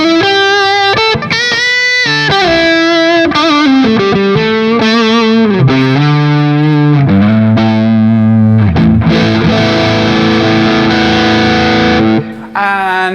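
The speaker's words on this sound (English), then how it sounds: "I still love the neck humbucker sound." Ibanez AZ electric guitar on the neck humbucker through an amp's drive channel, loud and close, with a run of sustained, distorted melodic notes and bends ending in a held chord that cuts off abruptly.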